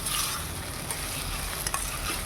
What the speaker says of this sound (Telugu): అడుగు పట్టకుండా వేయించుకుంటున్నాను.